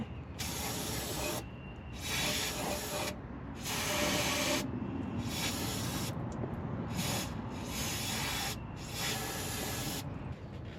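Brake cleaner sprays in repeated hissing bursts of one to two seconds with brief pauses between them, cleaning threads on a Ford F250, moderately close and with no talking.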